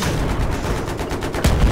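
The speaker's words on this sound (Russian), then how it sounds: "Я стреляю." Gunfire in the Battlefield video game: a dense, continuous burst of rapid shots with a heavier boom near the end, loud and close with no talking.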